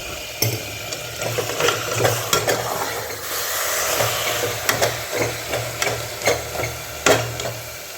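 Chicken pieces stirred in a hot frying pan for chicken curry, with steady sizzling under repeated scraping and clacking of a spoon against the pan in an uneven rhythm, close and fairly loud.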